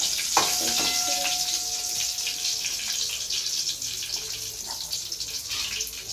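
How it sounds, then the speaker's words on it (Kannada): Garlic sizzling and crackling in hot oil in a pan, a steady close hiss with scattered pops and a brief stir near the start. "ಇದು ಬೆಳ್ಳುಳ್ಳಿ ಫ್ರೈ ಆಗಬೇಕು."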